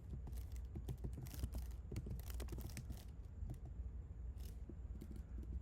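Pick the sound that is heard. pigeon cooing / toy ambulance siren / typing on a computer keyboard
typing on a computer keyboard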